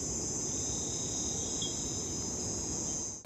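Dense, steady chirring of insects fills the Costa Rica jungle at night, a continuous high trill over a low wash of ambient noise with no pauses.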